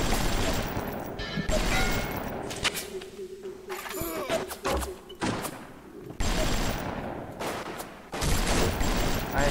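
Rapid bursts of gunfire in the video game Bioshock, including machine-gun rounds hitting a wall, come loud and close in long volleys, broken by short quieter gaps.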